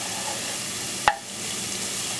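Garlic frying gently in a pan for a steak dinner, a soft continuous sizzle with one sharp clink or stir sound partway through, fairly quiet and without voices.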